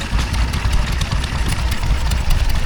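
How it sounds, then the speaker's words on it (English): A Wolseley WD8 stationary engine of the kind once used to power sheep shearing runs at a steam and craft fair, giving a steady loud low chugging rumble with no talk. "it's a stationary engine that sheep shearing would have been done off of."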